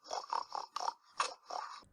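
A run of short, rough grunting snorts in quick succession, close and fairly quiet, like a pig rooting around.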